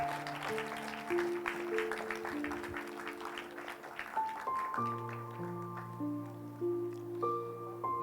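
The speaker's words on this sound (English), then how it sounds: "give them a huge round of applause." Applause for chairs at a school Model United Nations conference, a faint, diffuse clapping that fades out midway as sustained musical tones rise and continue, quiet overall.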